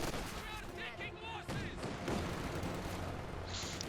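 Machine gun fire in the WWII strategy game Company of Heroes 2 crackles in dense bursts during a 1v1 match, with battle noise throughout and a voice talking over the shooting.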